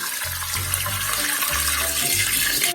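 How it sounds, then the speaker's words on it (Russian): Cold tap water pours into a pot of potatoes in a home kitchen, a steady rushing splash with low burbling as the pot fills, close and continuous without talk. "укладываем картошку в кастрюлю, заливаем холодной водой, именно холодной"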